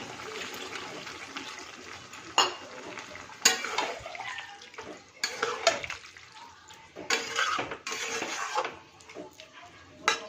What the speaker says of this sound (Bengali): এবার একটু জল দিয়ে দিই